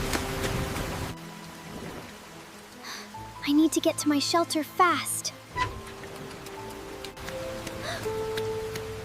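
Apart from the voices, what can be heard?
heavy rain falling during a storm at night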